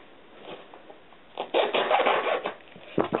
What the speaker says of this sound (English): you're going to want to go ahead and cut this to about 18 inches